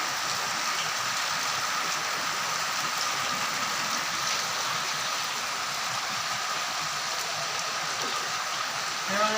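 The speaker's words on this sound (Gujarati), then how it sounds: "વરસાદ તો ચાલુ છે." Steady rain falls on a farm during the wheat harvest, with a parked tractor nearby, producing an even, moderately loud hiss of drops with little variation.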